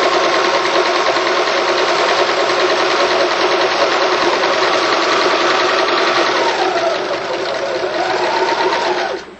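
A sewing machine runs a short stitch length along twill tape laid onto the edge of a tarp, giving a steady close mechanical whir that holds for about nine seconds before easing off and stopping.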